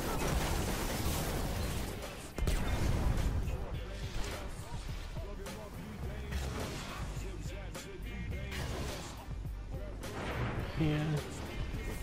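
Last Word hand cannon gunfire in the Destiny video game, a dense run of sharp booming shots and impacts packed across the whole stretch, loud and crowded, with battle noise layered throughout.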